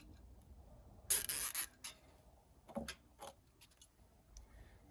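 A plastic zip tie on a Predator 212 engine being threaded through and pulled tight, heard as a short burst of rapid ratcheting clicks followed by a few scattered softer scrapes, close and quiet.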